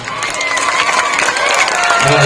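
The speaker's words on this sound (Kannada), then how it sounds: "ಬಹಳ ಖುಷಿ ವಿಚಾರ ಚಪ್ಪಾಳೆ ತಟ್ಟಬೇಕು ಎಲ್ಲರೂ" An audience breaks into applause, a dense wash of clapping from many hands with some cheering, loud and continuous, with a voice briefly heard over it.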